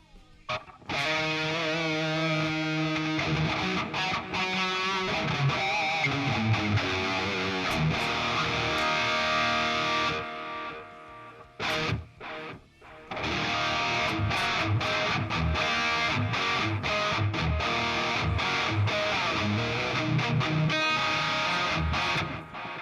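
Heavily distorted electric guitar run through the STL AmpHub amp simulator with delay, playing a riff loud and continuous with a brief break in the middle and echoing repeats trailing the notes.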